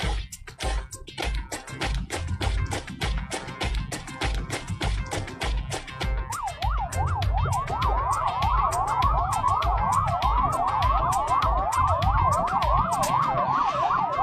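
An ambulance siren wails in a rapid rising-and-falling pattern, loud and close, coming in halfway through over heavy rhythmic traffic and background noise, during a riot-control demonstration at a CRPF Raising Day ceremony in India.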